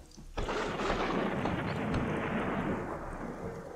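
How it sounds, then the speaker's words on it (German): A thunderstorm rages in the Northgard video game, a sudden loud crack of thunder that rolls into a broad, sustained rumble with rain-like hiss continuing to the end. "Dieses Gewitter, da ist ganz schön böse"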